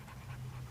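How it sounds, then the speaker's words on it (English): Sled dogs in Greenland pant in a soft, fast, steady rhythm, faint and brief. "The dogs are out here all the time, whether summer or winter."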